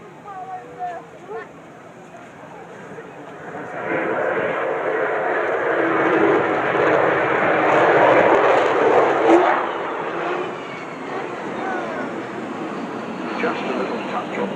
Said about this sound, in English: a touch on the throttles of the 4 Rolls-Royce Bristol Olympus 202 turbojets